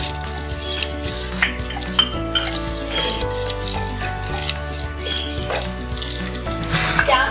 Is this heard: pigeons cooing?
no